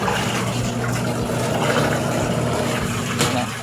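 A Eureka 7.5 kg washer dryer runs on its newly replaced spin motor, giving a steady, even humming drone with a low whirring tone that holds without a break throughout.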